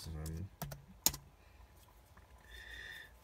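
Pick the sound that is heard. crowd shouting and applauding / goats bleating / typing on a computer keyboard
typing on a computer keyboard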